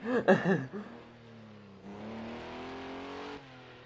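Hybrid V6 all-wheel-drive road car at the Goodwood Festival of Speed, its engine rising in a steady acceleration after a short laugh, moderately distant.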